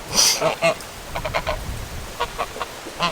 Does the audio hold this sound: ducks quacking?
yes